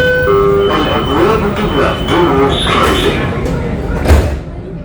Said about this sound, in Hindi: मोनोरेल हमारी जा चुकी है यहाँ से अभी